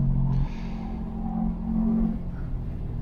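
A Subaru STI accelerates out of a corner on a track day, a low droning engine note heard from inside the car, loud and steady with a slight rise in pitch.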